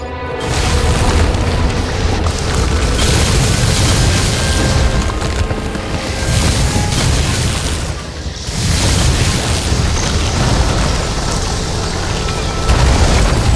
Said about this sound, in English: Cable acted like a fuse. That's what caused the explosion.